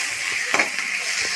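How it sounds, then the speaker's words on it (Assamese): Oil sizzles with turmeric in a wok while a fish mustard curry is prepared, giving a steady bright hiss broken by a few soft stirring scrapes. "ইয়াত হালধি দি দিছোঁ আৰু অকণমান এনেকৈ ভাজি"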